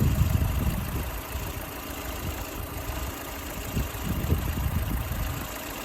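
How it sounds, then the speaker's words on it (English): A car engine idles steadily at close range, a continuous low rumble with a faint uneven knock and vibration running underneath and no change in pace. "Let the vehicle idle for a minute."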